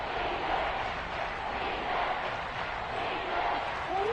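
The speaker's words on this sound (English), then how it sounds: "the crowd getting into it as we come up on a big 3rd down" A football stadium crowd during a game makes a steady, dense wash of cheering and roaring that rises slightly toward the end, with a voice faintly audible in the mix.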